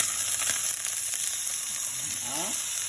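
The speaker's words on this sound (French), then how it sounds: "On attend que ça grésille." A turkey slice sizzles in oil in a frying pan, a loud, close, continuous hiss and crackle with occasional faint clinks.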